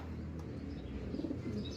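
Soft, low coos from pet pigeons murmur a couple of times, quiet against a faint steady background hum.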